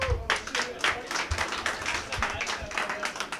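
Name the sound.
audience applause at open mic night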